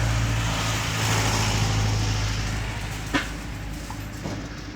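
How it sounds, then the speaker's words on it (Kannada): Steady engine drone from a Hero Splendor motorcycle running at speed on a highway, with continuous wind rush and road noise and no talk. "90-80 ಹೋದ್ರಿ ಗಾಡಿ ಫುಲ್ ಸೌಂಡ್ ಮಾಡ್ಲಾಗೈತೆ."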